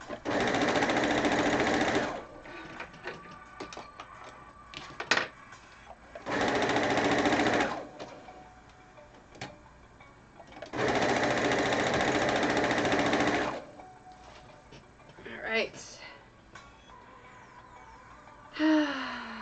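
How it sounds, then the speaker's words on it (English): A sewing machine whirs in three sustained bursts of about two seconds each, separated by quieter gaps with handling sounds and breaths, fairly close and loud. "that's my sewing machine that my subs use"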